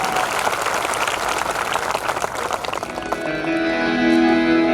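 An audience at a devotional music program applauds loudly and steadily for a few seconds before the clapping gives way to sustained musical tones.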